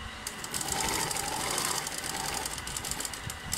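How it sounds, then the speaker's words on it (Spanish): A sewing machine stitches fabric straight along a seam on a garment, running as a steady, fairly quiet whirring hum for a few seconds with no talking. "Y cosemos directamente."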